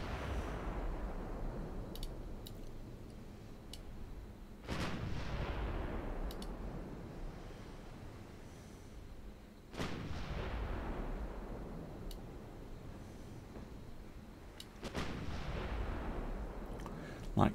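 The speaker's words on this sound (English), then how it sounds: "Light cruiser opening up." Heavy naval gunfire from a light cruiser in a video game battle sounds in three loud booming salvos, each about five seconds apart and followed by a rumbling decay, with sharp distant cracks between them.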